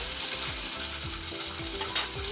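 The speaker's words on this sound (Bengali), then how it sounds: "এই যে পরোটাটা ভাজছি" Paratha frying in a pan at home, giving a steady close sizzle with repeated rhythmic scraping strokes of a spatula, and no voices.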